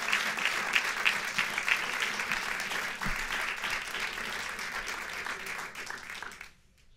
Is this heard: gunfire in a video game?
no